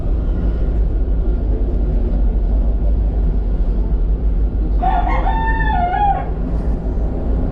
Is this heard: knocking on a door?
no